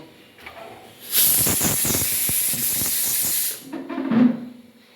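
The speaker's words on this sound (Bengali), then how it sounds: "আর একটা সিটি হলেই আমি এটাকে নামিয়ে নেব দেখুন আমার চারটে সিটি হয়ে গেছে" A pressure cooker cooking potatoes for aloo bharta lets out a loud, sustained steam whistle. It is a harsh hiss lasting about two and a half seconds, then it cuts off into quieter kitchen clatter.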